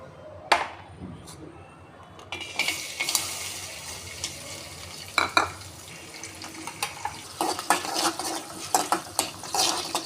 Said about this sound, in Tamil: நெய்யில் பாதாமையும் பம்கின் சீட்ஸையும் வறுத்துக்கிட்டேங்க.